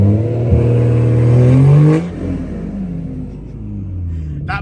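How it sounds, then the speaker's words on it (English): A car engine mapped with 16 PSI of anti-lag revs hard with a rising roar, then cuts off sharply with popping and crackling, loud and close. "it's mapped with 16 PSI of anti-lag too, so let's hear it"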